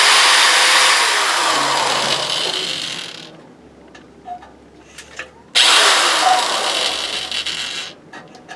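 A power drill boring a hole in a fire stove runs in two loud, whining bursts separated by a quiet pause with small clicks and knocks, the second burst starting abruptly and tailing off.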